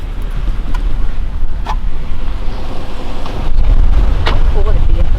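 A car drives along a road on a birding trip in Maine, with a loud, continuous engine and road rumble close by, steady throughout with a few faint clicks and no one talking.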